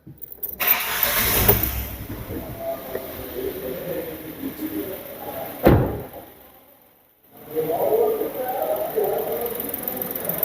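A car engine is cranked and started during an oscilloscope diagnostics session, with a rough churning run, a sharp knock or slam midway, a brief quiet lull, then the engine noise resuming steadily and fairly loud.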